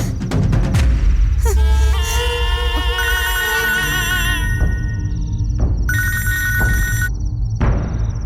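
A telephone rings insistently indoors, a bright electronic ringtone with repeating melodic tones and bursts of trilling, loud and close, with a little background commotion underneath.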